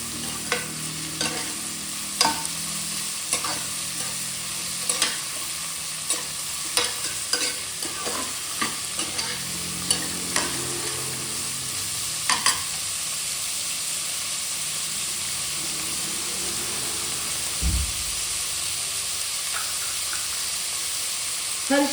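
Onions and fenugreek leaves stirred and frying in a pan for egg biryani, a steady sizzle with repeated scraping clicks of the spoon, close and continuous with no talk.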